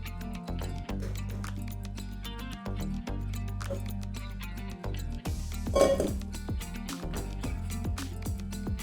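Ricotta gnocchi being tossed with garlicky tomato sauce in a pan, with soft clinks and scrapes of cookware over a steady low background hum, a brief louder wet sizzle-like burst near the end.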